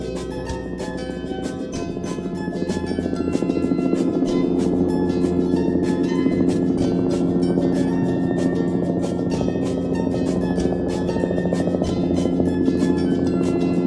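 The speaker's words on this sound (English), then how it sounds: "helicopter" Helicopter engine and rotor noise, a steady dense drone with rapid regular blade chopping sustained at an even, fairly loud level without any voices.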